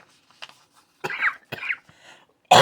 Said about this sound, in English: as you can see, I still have my cough